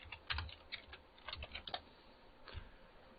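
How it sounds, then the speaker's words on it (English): Quick, close keystrokes on a computer keyboard as a MySQL command is typed, a short irregular run of light clicks and taps, fairly quiet with brief pauses. "Let's type in MySQL"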